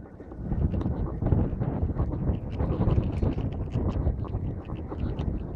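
Rough, buffeting wind noise roars across the microphone while riding an eBike into a headwind on Yarrowford Road, steady and gusting throughout.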